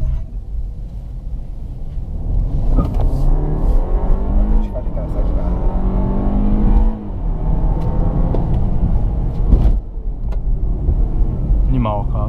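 Ford 1.5 turbo car, built in Argentina, accelerates hard, heard from inside the cabin. Engine drone climbs steadily in pitch, dips briefly at a gearshift and then rises again, while someone talks over it.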